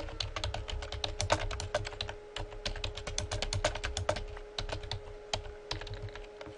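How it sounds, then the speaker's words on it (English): Someone types text on a computer keyboard, with quick, irregular clicking keystrokes close by and no one speaking over them. "I can type something in there"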